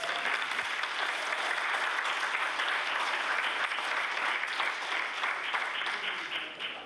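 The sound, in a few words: applause in the House of Assembly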